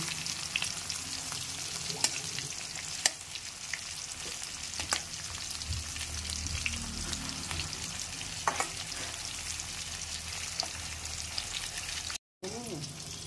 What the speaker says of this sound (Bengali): একদিক ভাজা হয়েই গেছে, আরেক দিক ভাজা হলে ব্যাস হয়ে যাবে